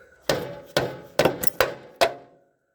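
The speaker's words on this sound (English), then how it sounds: "Just give this thing some good whacks" Five sharp, evenly spaced hammer whacks driving a custom axle pin through the axle of a Case Ingersoll loader backhoe, loud and close metallic strikes, each ringing briefly before the next, then fading to quiet.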